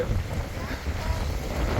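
Strong wind buffets the microphone in a continuous roar, with the low rumble of waves washing beneath it, on the coast at Mount Victoria, Wellington.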